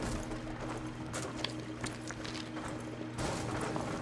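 Footsteps of an approaching player in the shooter Rainbow Six Siege, a run of quick, light thuds over steady background hum, fairly close and moderately loud, with a louder bump near the end.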